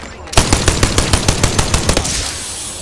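Rapid automatic gunfire in the video game Apex Legends: about a dozen evenly spaced loud shots over roughly two seconds, then a fading tail, with no talk over it.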